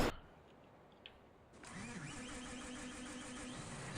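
A quiet room, then a tractor engine in Farming Simulator 15 cranks over and catches, settling into a steady mid-pitched idle that hums on to the end.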